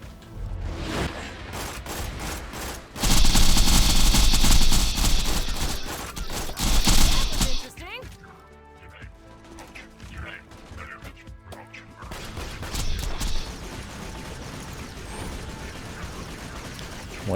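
Rockets firing in Borderlands 2, a dense roaring barrage of blasts and crashing explosions that swells loud for several seconds, then gives way to scattered gunfire and mechanical clatter, with someone talking over parts of it.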